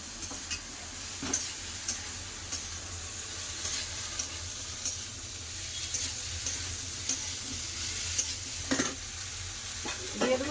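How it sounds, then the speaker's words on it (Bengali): Prawns, onion and chopped vegetables stir-fried in a pan, with a steady soft sizzle and the occasional scrape and tap of a spatula against the metal, close and fairly quiet, with no talking. "পেঁয়াজ চিংড়ি মাছ সাথে সবজিগুলো ভালো করে কষে নেবো"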